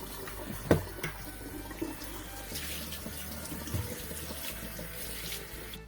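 Cold tap water runs steadily from a kitchen faucet over freshly candied oranges to cool them, a continuous close splashing gush with a few sharper clunks near the start.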